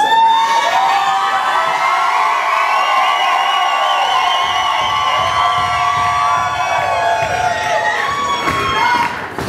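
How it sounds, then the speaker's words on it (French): A large crowd at a dance competition shouts and cheers loudly and continuously during an awards announcement, a dense, sustained roar of many voices with rising whoops. "ça s'attend juste comme un bordel, le monde qui crie là"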